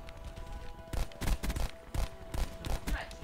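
Rapid shots from an RK7 pistol in Black Ops 4 multiplayer, several loud bursts spaced unevenly over a steady game backdrop with constant hum.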